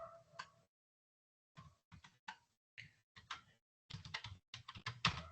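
Keys clack on a computer keyboard in short bursts of quick taps separated by pauses, faint and close, with no talking.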